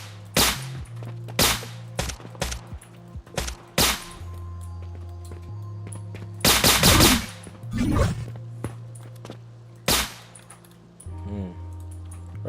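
Gunfire in an open-world first-person shooter built in Unreal Engine 5.7: a dozen or so sharp shots in irregular single and double bursts, with a dense volley near the middle, over a low steady hum and brief talk.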